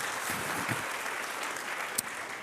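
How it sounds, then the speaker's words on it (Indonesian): A church congregation applauds during an Ascension sermon: dense, sustained clapping fills the room evenly, with one sharper clap standing out near the end. "Berikan tepuk tangan kita untuk Tuhan kita."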